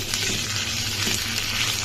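Ground spice paste with ginger and garlic fries in hot oil, a steady close sizzle that runs continuously with no talking.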